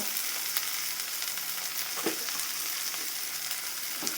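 Black cumin seeds crackle and sizzle in hot oil in a pan. The frying hiss is dense and continuous, with a few soft stirring scrapes, and it is heard alone at close range.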